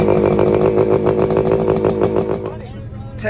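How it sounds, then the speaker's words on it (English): Two-stroke racing quad engine revving up close, a loud buzzing, steady rasp held for a couple of seconds before cutting off abruptly, with talk in the background. "Some racing two-stroke quads out here."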